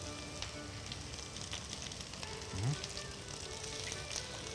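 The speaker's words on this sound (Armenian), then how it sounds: "հիմա կարող ենք ավելացնել նաեւ միսը, որ մի քիչ ինքը կեղևապատվի" Meat browning alongside onions in a frying pan for khashlama, a soft continuous sizzle with faint crackles and some low background murmur and clatter.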